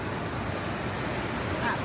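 Pacific Ocean waves wash steadily onto a beach near a boardwalk, a continuous broadband surf roar with wind noise on the microphone and no clear breaks.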